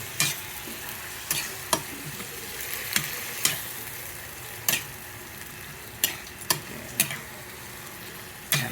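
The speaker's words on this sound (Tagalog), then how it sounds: "Halo-halo mo lang siya po. Kailangan ma-cover up yung lahat ng chicken sa kamatis." Chicken pieces being stirred with tomatoes in a pan, with repeated sharp scraping and clacking strokes of the spoon at an irregular rhythm over a soft steady sizzle, close and moderately loud, with no talking.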